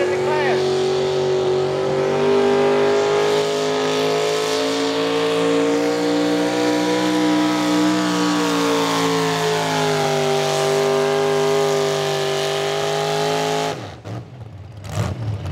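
A V8-engined modified tractor roars loud and close at a tractor pull in Millers Tavern, Virginia, holding a high rev with a rich harmonic drone that rises and falls before cutting off abruptly.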